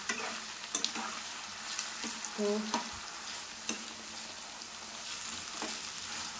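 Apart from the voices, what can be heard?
frying food in a pan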